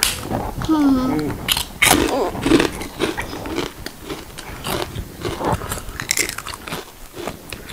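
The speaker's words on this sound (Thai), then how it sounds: "อันนี้แคบหมูนะครับแคบหมูค่ะ" Crispy pork rinds are bitten and chewed up close, with loud crunches and crackles mixed with talking.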